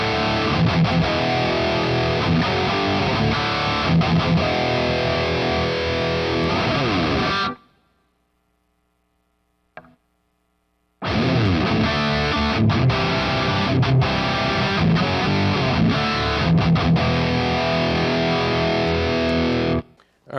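Heavily overdriven electric guitar chords through a Headrush Prime crunch rhythm overdrive amp model, played in a driving rhythm, loud and sustained, breaking off briefly into silence before resuming.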